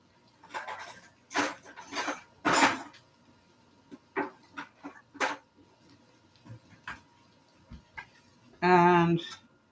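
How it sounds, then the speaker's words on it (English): A very sharp bread knife saws through cooked beef in a series of quiet, separate rasping strokes with light clicks between them, and a voice follows near the end. "I'm just going to cut it with this very sharp bread knife"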